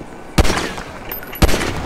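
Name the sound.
gunshot in video game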